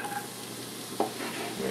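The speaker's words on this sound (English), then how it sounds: "You want to hear a little sizzle when it hits the pot." Food hitting hot oil in a preheated pot for artichoke soup, giving a quiet, steady sizzle with a sharp crackle near the middle of the clip and faint stirring.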